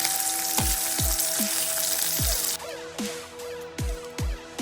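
Conch curry ingredients sauté in a pan with a steady hiss of frying, punctuated by a series of sharp taps and clinks of a utensil against the pan; the sizzle drops quieter partway through.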